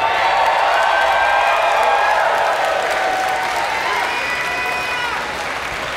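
Crowd applause and cheering fill the hall at an independent wrestling show in Pittsburgh, a dense, sustained roar with an announcer's voice carrying over it.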